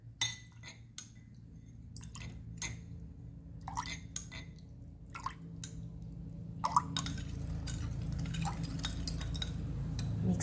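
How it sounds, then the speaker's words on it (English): Passion fruit juice dripping and splashing into a glass, followed by clinking stirring against the glass, close and fairly quiet over a steady low background hum, with no talking. "And I just drop here in my glass. I drop in my glass like this one."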